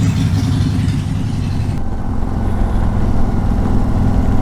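A 2021 Harley-Davidson Street Glide Special motorcycle engine runs loud and close with a deep, steady rumbling throb, holding an even idle-like pulse throughout.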